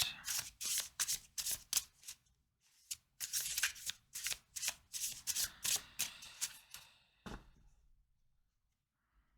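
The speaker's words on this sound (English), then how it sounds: "We're going to get 3 of these oracle cards" Oracle cards being shuffled by hand in a quiet room, a run of crisp riffling bursts with brief pauses, then a final tap before it falls silent; no talking.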